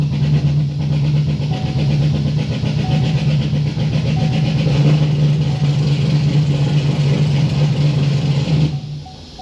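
Insanely loud Stage 4 Corvette Z06 engine held at a steady rumbling rev with no rise in pitch, as the car drops into reduced engine power, then cutting off near the end. No talking.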